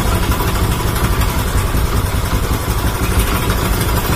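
A motorcycle fitted with a new Tobaki ignition coil and Faito plug cap idles close to the microphone, a loud, even, continuous engine rumble with no pauses.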